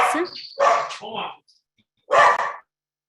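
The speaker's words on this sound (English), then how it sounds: "had a dog barking moment" A dog barks a few times close by, sharp yapping barks with a short pause before a final bark.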